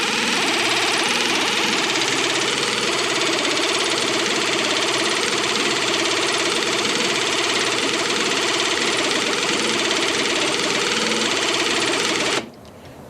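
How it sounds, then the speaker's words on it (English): Air ratchet set on low running on an engine, a loud continuous buzzing whir that holds steady for about twelve seconds before cutting off abruptly. "We have an air ratchet. Got it set on low, and it seems to be doing fine."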